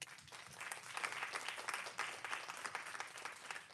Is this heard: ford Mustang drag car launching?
no